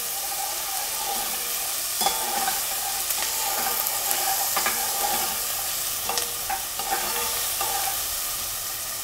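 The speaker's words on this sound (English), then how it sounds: "caramelize the onions, get all the sweetness out of the onions. Okay. Brown the garlic a little bit." Onions and garlic frying and caramelizing in a pan for a veggie lasagna, a continuous close sizzle broken by occasional scraping stirs and clatters of a utensil against the pan.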